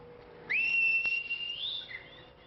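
A person whistles to call goats: a single sustained whistle, rising at the start and holding a steady high tone for over a second, with a slight upward lilt near the end.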